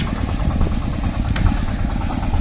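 A vehicle engine, likely an agricultural machine hauling grain in Ukraine, runs at a steady low rumble as it starts to drive up a slope, loud and close with a constant vibrating drone throughout.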